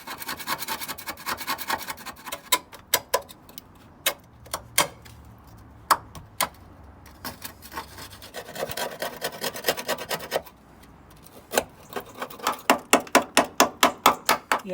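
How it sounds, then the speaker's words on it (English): A screwdriver chips and scrapes rust off the body of an ST170 car under restoration: sharp irregular metallic taps and clicks mixed with gritty scraping bursts, close and fairly loud, ending in a quick run of rhythmic strikes. "So we just chip off all the big chunks so that the rust killer can get underneath it"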